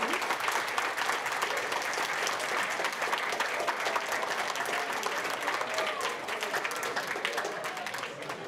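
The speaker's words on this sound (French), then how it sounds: "je vais vous demander d'applaudir très fort les personnes qui sont venues" An audience claps loudly and steadily at a webinar event, dense sustained applause from a crowd that carries on without a break and fades slightly near the end.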